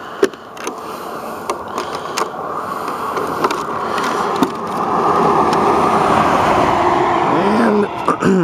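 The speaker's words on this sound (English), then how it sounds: "One thing about doing this on the side of the road, I gotta watch for traffic." Roadside traffic passing during a 3S LiPo RC car speed run, a broad steady roadway rumble that swells as a vehicle goes by, with scattered clicks and knocks and no talking.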